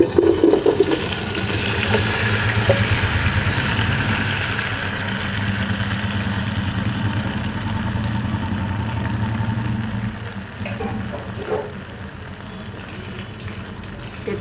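Jujubes go into hot mustard oil seasoned with asafoetida for a Bengali pickle, giving a loud, steady, close hiss of frying that eases slightly toward the end.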